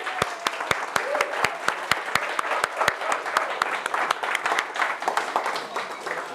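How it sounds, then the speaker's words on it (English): Audience applause at a software tester gathering, for volunteer testers coming up front: a room of people clapping steadily and moderately loud with sharp individual claps standing out, while a voice talks over it. "you get a round of applause, you get a proper one"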